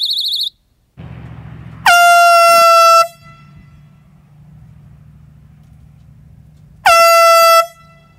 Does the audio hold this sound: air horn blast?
yes